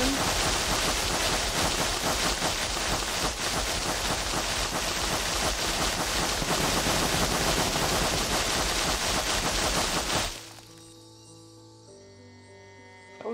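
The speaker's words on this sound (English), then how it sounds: "That was gunfire." Rapid gunfire in the zombie survival game Project Zomboid, a dense, continuous loud barrage of shots for about ten seconds that cuts off abruptly, leaving a faint tonal hum.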